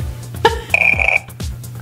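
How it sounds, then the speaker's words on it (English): A McDonald's Happy Meal birthday girl toy doll lets out a short electronic burp, a brief buzzy tone that swells and then holds steadily for about half a second, loud and close with no talking. "she just burped again"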